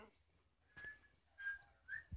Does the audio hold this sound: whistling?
yes